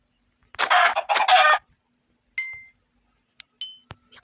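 Chickens in the Minecraft video game give a short burst of clucking, then a few isolated clipped cluck sounds and small clicks, alone against silence.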